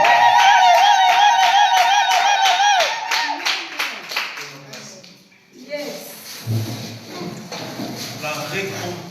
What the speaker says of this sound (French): Acclamons la parole.